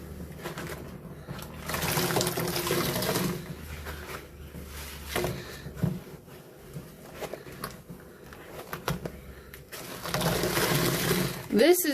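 A sponge being rinsed under running water during a sponge-squeezing ASMR session, with a continuous wet hiss broken by squelches and drips, close and moderately loud, and a voice talking over parts of it.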